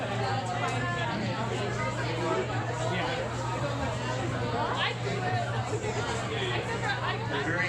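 Boisterous crowd gathered for an evening of talks, a dense steady babble of many overlapping voices filling a room, constant and moderately loud throughout.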